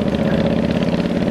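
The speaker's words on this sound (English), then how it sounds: "And, you know, it will rev. This thing revs." A Kawasaki Vulcan VN800 800cc cruiser motorcycle engine runs with a steady, close, mid-toned rumble for a brief moment, with no talk.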